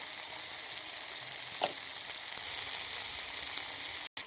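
Fish, bata fish, frying in hot oil in a pan: a steady, close hiss of sizzling oil with faint crackles and one brief spoon touch, continuous and even throughout, with no voices.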